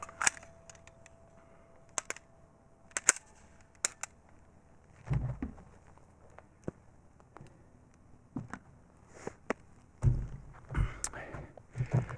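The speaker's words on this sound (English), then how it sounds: "Gun shoots great." Sig Sauer P320 pistol shots, a handful of sharp, widely spaced reports at range with quieter clicks and handling noise between them and brief voices in the background.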